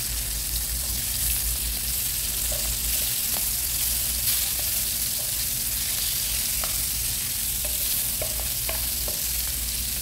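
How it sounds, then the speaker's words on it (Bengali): Marinated frozen hilsa fish frying in oil in a pan, being turned over: a loud, steady sizzling hiss fills the whole stretch, with small pops and faint clinks of stirring, no voices. "এই তো মাছগুলো সুন্দর করে ভাজা হয়ে যাচ্ছে"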